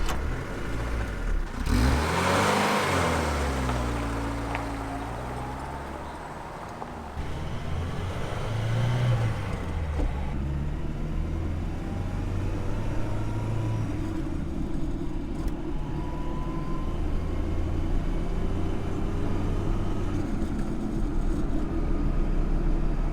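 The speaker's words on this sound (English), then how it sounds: "A little bit of whine from the transfer box" A 1970s ex-fire service overland vehicle with a loose transfer box drives along, its engine droning and revving near the start, then settling into a steady road roar with a faint rising whine, no talking.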